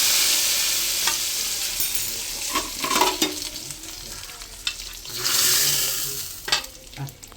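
Hot tempering of coconut pieces and curry leaves poured into a pot of country-style chicken curry, a loud close sizzle surging and crackling, with brief stirring noises and no talk.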